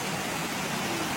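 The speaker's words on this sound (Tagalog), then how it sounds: "Grabe, boost ang ulan." Heavy rain pours down in a thick, unbroken hiss that stays loud and even throughout, with no voices.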